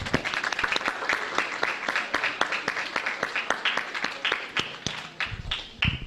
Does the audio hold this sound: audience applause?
yes